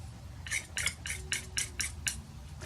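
Palette knife or brush scraping and tapping on a palette while acrylic paint is mixed, ultramarine with another colour, giving seven quick evenly spaced scrapes over a low background hum.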